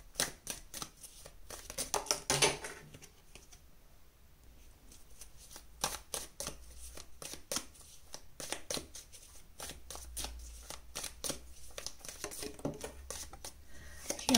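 Tarot cards are shuffled close up, a quiet run of crisp riffling and flicking taps with short bursts of faster shuffling, soft and steady throughout.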